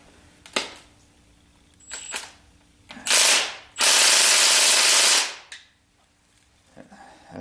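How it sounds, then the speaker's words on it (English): A low-set impact wrench works on a motor mount bolt of a 1976 Corvette, firing in a few short bursts and then two longer loud runs, with quiet gaps between them. "impact wrench is set very low, and that, I guess, is a good thing."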